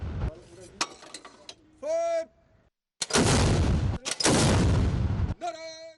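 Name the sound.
21-gun artillery salute by Pakistan Navy at PNS Bahadur, Karachi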